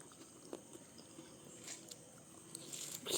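Watermelon eaten in the dark at home, with soft, wet biting and chewing close by, faint and intermittent against a quiet background.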